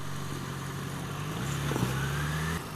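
2016 Yamaha FZ6R motorcycle pulling away from a stop, a steady low engine hum with a mild rising rev, close and moderately loud.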